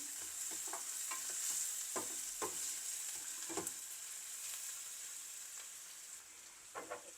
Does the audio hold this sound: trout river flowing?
no